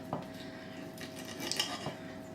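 Knife scraping and clinking against a plate while fat is trimmed from a raw steak, a couple of sharp taps and light scraping strokes, close and quiet with no talking.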